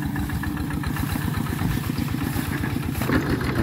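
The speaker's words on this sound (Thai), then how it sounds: "รถไถนะพี่น้อง" Farm tractor engine running nearby, a rapid chugging, clattering idle with steady pulsing rhythm, loud and close throughout.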